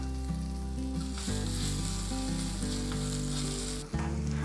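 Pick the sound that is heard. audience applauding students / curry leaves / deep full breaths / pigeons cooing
curry leaves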